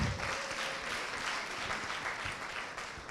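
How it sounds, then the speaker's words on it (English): Audience applause at the final day of a medtech hackathon in Uganda, honoring the finalist judges: dense, sustained clapping from a sizable crowd, steady and fairly loud throughout with no voices over it. "Please give them a thunderous round of applause."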